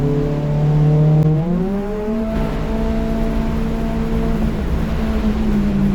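A race car engine drives a lap at Ridge Motorsports Park during a Lemons endurance race, a steady loud droning hum that shifts up in pitch as the revs change and then holds a sustained tone, with no talk.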